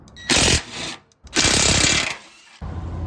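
A power tool zips out 12mm bolts from the lower skid plate of a 100 Series Land Cruiser in two loud, close bursts separated by brief pauses, with a quieter rattle at the end.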